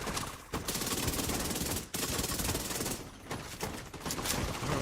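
SMG fire in The Division 2, dense rapid automatic bursts rattling almost continuously for several seconds, broken by a few brief pauses, loud and close with no talk over it.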